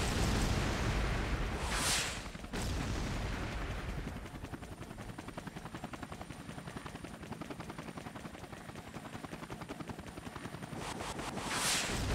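A Chinook helicopter in the video game Air Conflicts: Vietnam, a continuous rotor chop with steady rhythmic thudding, interrupted by sharp explosive bursts near the start and the end.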